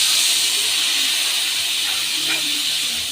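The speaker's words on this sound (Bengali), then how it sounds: "ঝোলটা আমার খুব সুন্দরভাবে ফুটছে।" Curry broth for a small-fish dish boils in a pan with a steady, close, hissing bubble that holds even throughout.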